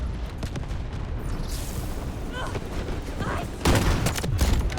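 Sniper rifle shots and other gunfire ring out during a Delta Force match, with sharp cracks and bursts and one loud blast near the end, over game noise and a faint background voice.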